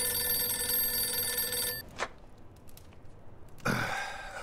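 In the video game Mafia II, an old-style telephone bell rings with a bright metallic trill for under two seconds and then stops. After it, brief throat and mouth noises follow in the quiet.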